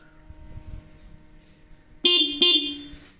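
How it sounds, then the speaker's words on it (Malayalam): A TVS Jupiter 125 scooter horn gives two short, loud, close beeps in quick succession, the second just after the first, against a quiet background. "അത്യാവശ്യം ഡീസൻ്റ് ആയിട്ടുള്ള ഹോൺ തന്നെയാണ് പ്രൊവൈഡ് ചെയ്തിരിക്കുന്നത്"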